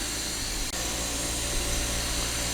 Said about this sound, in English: take it to this, which is basically a high-speed strop